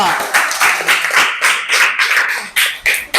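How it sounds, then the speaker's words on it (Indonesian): A class claps for a presenting student group, a steady patter of many hands that pulses in waves and ends with a few louder separate claps. "Tepuk tangan untuk kelompok 2."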